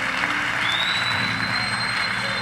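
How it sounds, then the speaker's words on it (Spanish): Church congregation clapping during a worship service, a steady wash of hands under a loud, dense backdrop with a high sustained tone, no clear speech. "Vamos, iglesia, aplaude más fuerte hoy."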